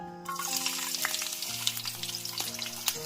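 Green chilies sizzle and crackle in hot oil in a pan, a bright continuous frying hiss with sharp pops, close and alone.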